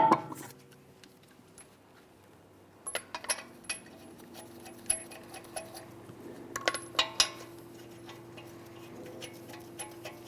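A wheel goes back onto a 2009-2014 Nissan Maxima after transmission filter work, with scattered light metallic clinks and taps of 21mm lug nuts being handled, sparse and close in a quiet garage.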